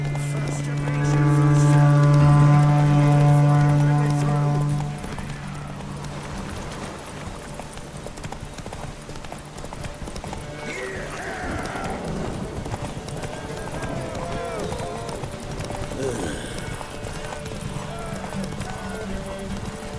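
Roach the horse galloping in a race in The Witcher 3, a steady rhythmic clip-clop of hooves running under a loud sustained horn-like tone at first, with background game sound and some talk.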